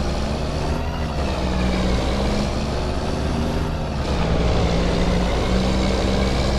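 Modded truck engine in Farming Simulator 25, heard up close as a steady, loud diesel drone with a deep low hum and faint higher whines rising and falling.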